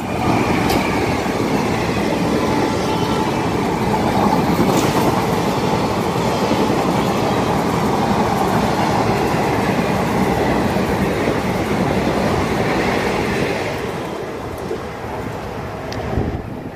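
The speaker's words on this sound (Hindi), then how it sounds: "यहाँ पे दोस्तों देख सकते हैं यहाँ पे एक ट्रेन भी जो है क्रॉस कर रही है।" A train rolls past a platform at Shivpur railway station, its loud continuous rumble and clatter of wheels holding steady throughout before easing slightly toward the end.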